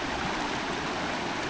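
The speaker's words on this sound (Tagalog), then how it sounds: "So sobrang lakas ng tubig guys." Strong river current rushing in a steady, loud, broadband roar with no break, near and alone without voices.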